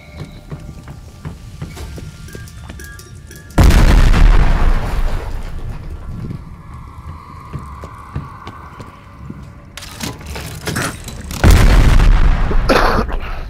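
Two frag grenades explode in Call of Duty Black Ops Cold War, each a sudden loud, close boom with a rumbling tail, the blasts spaced several seconds apart over quieter game ambience with scattered clicks and footsteps.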